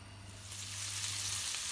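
Koftas (meatballs) sizzle and fry in a pan with little oil, a steady close hiss that swells slightly as it continues, with no talking.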